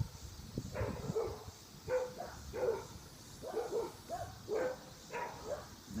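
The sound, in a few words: dogs barking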